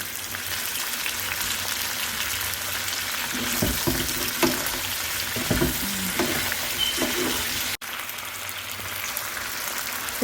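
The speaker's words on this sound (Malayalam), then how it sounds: "സവോള ഇട്ട് നമ്മൾ ഒരു 2 മിനിറ്റ് ഇളക്കി." Chopped onions with salt fry in a pan for pepper chicken, a continuous loud sizzle broken by several scraping stirs and knocks of the spoon in the middle, then a brief cut before the sizzle resumes.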